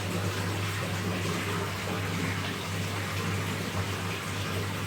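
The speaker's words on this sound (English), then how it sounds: "Now we are slowly topping up our aquarium" Water pours steadily into a freshwater stingray aquarium as it is topped up, a continuous soft gushing hiss with a low steady hum beneath it, no talking.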